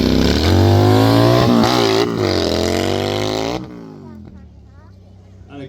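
Stunt motorcycle at a show by the moat at Leeds Castle, Kent, revving loud and close with rising and falling engine pitch as it turns, then fading quieter, with an announcer talking over it.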